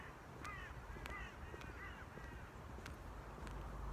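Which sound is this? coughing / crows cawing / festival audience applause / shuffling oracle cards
crows cawing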